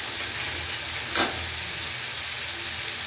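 Tomatoes sizzle and fry steadily in a hot pan while a fish curry is prepared, a dense continuous hiss with one brief stirring clatter partway through.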